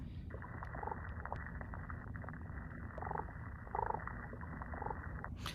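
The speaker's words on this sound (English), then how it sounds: "Damselfish produce their sound by snapping the pharyngeal teeth" A damselfish's soft, low purring rumble underwater, made by snapping its pharyngeal teeth and amplified by its swim bladder, with a few brief louder pulses standing out against steady background noise.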